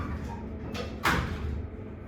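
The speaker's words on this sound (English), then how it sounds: "Doors closing." Otis lift doors slide shut in a Cheltenham High Street shop, a steady low rumble of moving panels ending in a sharp thud as they meet, with no talking.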